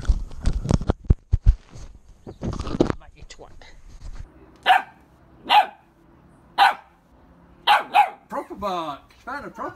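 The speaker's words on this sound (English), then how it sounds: "Bark! Found a proper bark!" Several sharp barks from a young Belgian Malinois–German Shepherd cross come in an irregular series, loud and close, following a stretch of people talking at the start.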